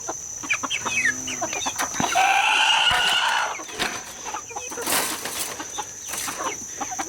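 Chickens in a makeshift pen clucking and calling repeatedly, with a rooster-like crow in the middle, close and fairly loud over outdoor background noise.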